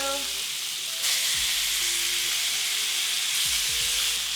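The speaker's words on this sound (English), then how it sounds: "they just need to sear to get that nice crust, but we're not cooking them, so it's not gonna take very long" Steaks sear in a hot pan after reverse-sear cooking, producing a loud, continuous, close sizzle that swells briefly at intervals, with no talking.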